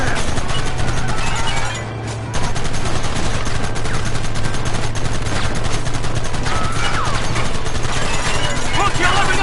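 Sustained gunfight in the Western video game Red Dead Redemption, with dense, continuous bursts of rapid gunshots and fusillade crackling loudly throughout, a steady low engine-like hum underneath and a brief lull near the two-second mark.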